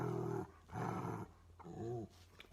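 A dog growls and whines in a few short bursts, low and close but fairly quiet, with brief pauses between them and no talking.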